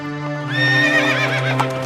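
A horse gives a loud, close whinny that rises and wavers over a low steady tone, with hooves clip-clopping beneath it, in a storybook scene of a prince riding out.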